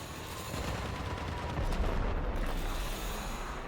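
Gunfire in the Warframe video game comes as a rapid, fairly quiet burst of shots over a dense rumbling game soundscape, with no speech.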